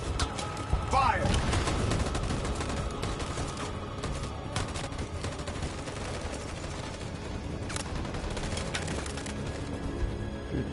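Gunfire in the video game Detroit: Become Human, a dense barrage of sharp shots and bursts throughout, with a voice shouting over the clatter.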